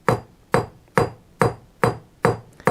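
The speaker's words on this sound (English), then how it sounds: "Now here we're hammering straight down." Blacksmith's hammer striking hot metal on an anvil during forging, hammering straight down: seven sharp, ringing blows at an even pace of roughly two per second, close and loud with no talk.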